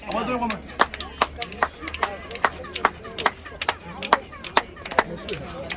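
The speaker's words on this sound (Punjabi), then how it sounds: "ਤੁਸੀਂ ਤਾੜੀ ਮਾਰੋਗੇ ਤਾਂ ਵਾਪਸ ਹੈ ਜਿਹੜੀ ਇੱਕ ਜਾਨਵਰ ਦੀ ਆਵਾਜ਼ ਆਏਗੀ" Handclaps at a Maya pyramid return as sharp chirped echoes like a bird call, a steady series of crisp claps with a falling twittering tail after each, repeated over and over with faint voices and crowd murmur in the background.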